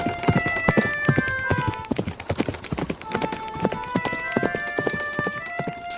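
Cartoon horse hooves clip-clop in a brisk, even rhythm as a prince rides toward a mountain, the hoofbeats loud and close over light tonal background sounds.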